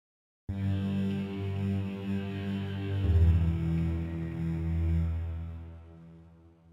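Cinematic sound effect sample from the Logic Pro X library: a deep, sustained droning hum with layered tones that swells after a short silence, thickens midway with a low throb, then slowly fades, heard alone.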